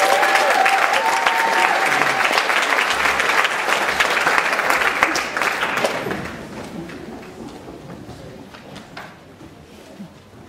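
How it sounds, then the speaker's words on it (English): A live audience applauds circus performers from the Wellington Circus Trust, with loud, dense clapping that holds for several seconds and then gradually thins and fades away. "you may want to cheer or clap them on"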